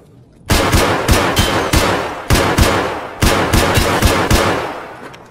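Rapid bursts of automatic gunfire in the game Escape from Tarkov, several loud clusters of shots cracking close by in quick succession with short gaps between volleys, no talking.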